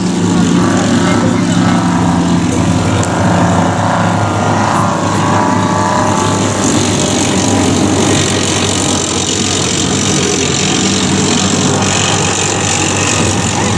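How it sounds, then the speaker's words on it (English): A combat engineer tractor, an armoured amphibious vehicle, drives past along a display area at a military show. Its loud, steady engine roar and rumbling running gear go on for the whole stretch. "Combat engineer tractor going past now, going up and down the display area"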